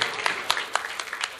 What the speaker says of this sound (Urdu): ایک بار زوردار تالیاں ادنا صاحب کے لیے